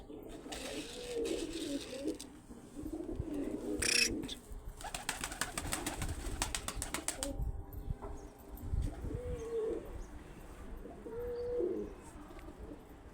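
Soft coos from a five-year-old pigeon recur in short throaty phrases, with a brief burst of flapping or rustling in the middle and quiet ambient noise throughout.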